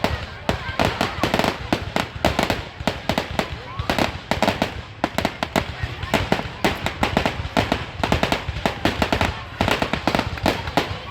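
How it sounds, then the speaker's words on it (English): A carnival's grand-finale fireworks display bursts in a dense, continuous barrage of loud crackling pops and booms, with voices talking underneath. "it's the typical grand finale firework"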